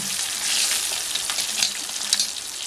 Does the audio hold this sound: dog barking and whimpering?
no